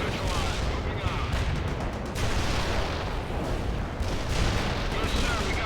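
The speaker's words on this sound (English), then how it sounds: "Mortar strike inbound. Direct hit on the enemy town." Mortar strike explosions in the video game World in Conflict, a dense, continuous roar of blasts and rumbling fire with radio-style voices talking over it.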